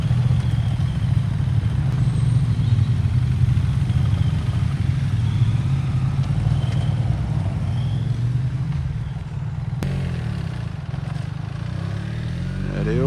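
A big group of classic motorcycles, including a two-stroke Yamaha 350, rolling out together from a classic car and bike breakfast meet, a loud, steady blend of engines running continuously with a shift partway through.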